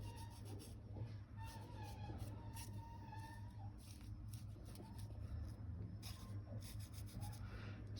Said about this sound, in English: I'm rubbing the back, making sure that alcohol really just gets in well where I've added the marker